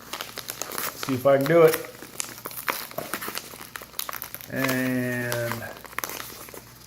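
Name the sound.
plastic wrap being torn off a 4K Blu-ray case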